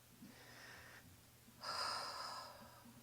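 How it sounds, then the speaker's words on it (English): Two slow, deep breaths, an inhale then a louder, fuller exhale after a short pause, close and quiet with no talking. "take some deep breaths"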